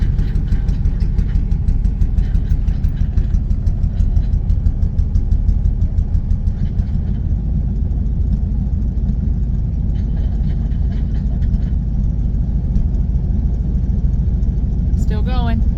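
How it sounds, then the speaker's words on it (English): A Ford Mustang engine runs at a low idle around 900 rpm, a loud, steady close rumble with noisy fan and pulley whir, while people talk over it throughout. "It's so noisy when it's low idle."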